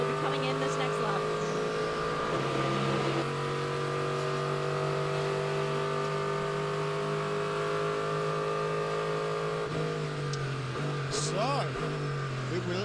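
A number 70 IMSA GTLM sports car enters pit lane at the 2016 Long Beach street circuit, its engine droning steadily and loudly with shifting revs, a continuous race-car roar mixed with crowd and commentary-like voices.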